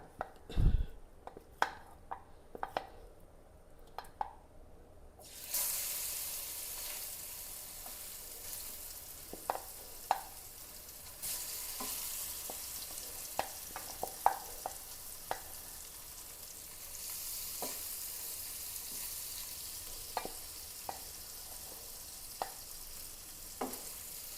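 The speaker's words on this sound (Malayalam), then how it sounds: "ആ മാച്ചാൻ 3-4 ദിവസം ഞാൻ വറുക്കാൻ പുരട്ടി വെച്ചിരുന്നു. അത് വറുത്തെടുക്കാം." Marinated fish fries in hot oil with a steady broad sizzle, crackling and popping throughout, with occasional sharp clicks of stirring or turning, fairly quiet overall.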